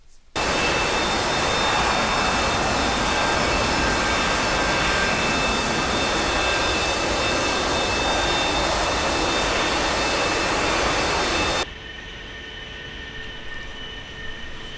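Jet engine of an A-4E Skyhawk in a DCS flight simulator on a jungle Marianas map, a loud continuous roar with a high whine held steady for about eleven seconds, then cutting abruptly to a much quieter hum.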